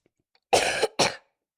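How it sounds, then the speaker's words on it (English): Two quick, close coughs, the first harsher and longer, the second shorter, loud and right into the microphone, with silence before and after. "Surround sound coughing."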